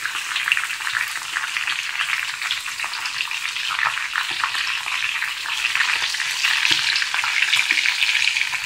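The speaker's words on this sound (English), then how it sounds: "Still frying the chicken." Oil crackles and sizzles steadily as chicken fries in a hot pan, a dense frying hiss with occasional pops, growing slightly louder over time.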